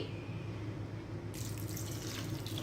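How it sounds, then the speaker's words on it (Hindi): Water runs steadily into a pot while cooking chana pulao, a continuous close splashing flow from a tap or jug, with no talk over it. "अब यहाँ पर हम ऐड कर देंगे पानी"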